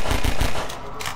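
Rapid automatic gunfire in Half-Life 2: Episode Two, a loud close burst of quick repeated shots lasting about a second.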